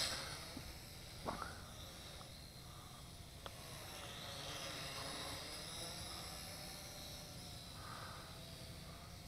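Faint steady buzzing whine of a small L6052 quadcopter fitted with Syma X5C propellers, hovering continuously at a distance, with a couple of brief clicks early on and no talk.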